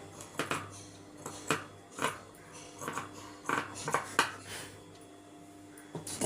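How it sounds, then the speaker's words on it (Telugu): Scissors trim extra fabric for hand stitching, giving a string of soft, close snips and light clicks at an uneven pace, quiet throughout with no talking. "ఇలా ఎక్స్ట్రా భాగాన్ని నీట్గా కట్ చేసుకోండి."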